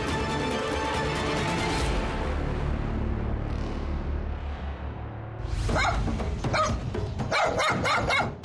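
Several dogs at a dog farm in the Philippines bark in quick, overlapping bursts near the end, following a stretch of background noise and softer yips.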